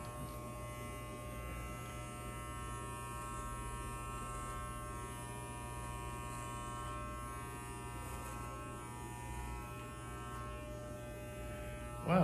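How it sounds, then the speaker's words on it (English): An electric shaver runs in a steady, close buzzing drone with a faint mains-like hum throughout, unbroken for the whole stretch and ending with a brief louder bump. "Wow, that's a great shaver."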